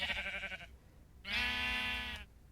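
Two bleats from sheep in the video game Minecraft, a short wavering one followed after a brief pause by a longer, steadier one, clear and close, with no talk.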